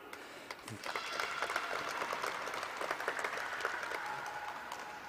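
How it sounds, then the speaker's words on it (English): A crowd applauds steadily and continuously at a landmark dome's grand reveal in Swakopmund, sounding distant and fairly quiet, with no one speaking over it. "for that, we need to applaud them."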